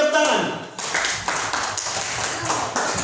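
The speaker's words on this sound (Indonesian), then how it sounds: "Silakan tepuk tangan." A classroom group claps together during a lesson, a brisk burst of hand claps following a brief voice at the start, the clapping thin and uneven, slightly scattered across the room.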